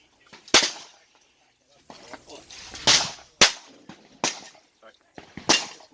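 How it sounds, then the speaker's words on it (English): Suppressed AK-74 rifle firing on full auto outdoors, heard as about five sharp, loud bursts spaced roughly a second apart, with quieter chatter and movement between them. "Full auto AK-74."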